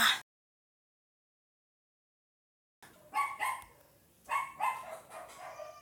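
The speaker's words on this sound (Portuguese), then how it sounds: "Era um barulho lá do meu cachorro latindo." A dog barks several times in short bursts after a moment of silence, fairly distant and moderately loud.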